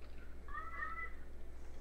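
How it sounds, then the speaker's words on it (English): A single drawn-out cat meow, faint and somewhat distant, rises over a low steady hum in a game-chat setting. "Someone's cat is really annoying."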